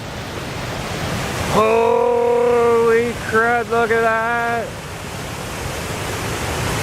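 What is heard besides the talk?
rushing floodwater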